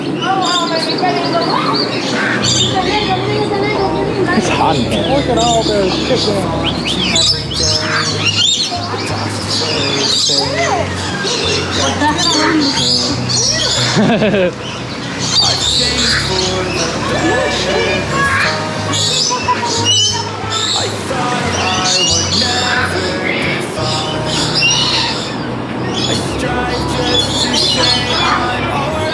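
Loud, busy chorus of birds, including swans, squawking and shrieking throughout at Busch Gardens in Florida, with people talking over the din.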